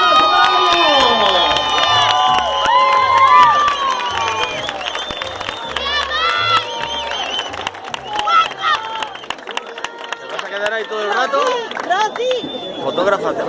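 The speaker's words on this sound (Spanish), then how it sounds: "¡Fuerte aplauso" A large crowd at a summer night show cheers and claps steadily, with shouts and excited voices rising over music in the background.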